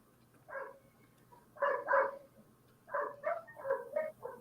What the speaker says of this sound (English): We hear the puppies in the background at Mikhail's house